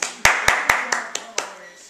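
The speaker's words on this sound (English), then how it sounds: "Clap!" Six sharp hand claps at a steady pace, close and loud, the last few softer, with no talking between them.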